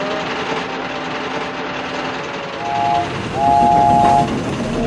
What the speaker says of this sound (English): So BoCo rolled away with his train, although he was feeling very embarrassed.